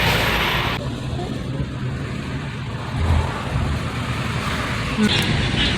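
Road traffic and a car engine rumbling steadily from inside a moving car, a continuous low drone with a brief louder swell partway through.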